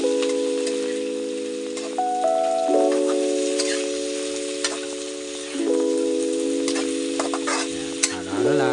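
Soy beans, pechay cabbage and egg stir-frying in a pan, a soft steady sizzle with occasional scraping stirs, accompanied by a sustained electronic hum or tone in the background throughout.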